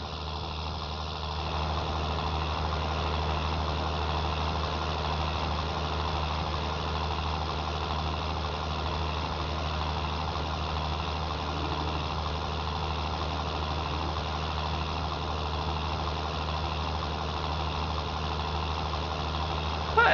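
A tractor engine idles steadily in Farming Simulator 19, a continuous low mechanical drone holding at an even level for the whole stretch with no breaks.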